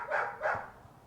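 A dog gives two short, close barks in quick succession, then falls quiet.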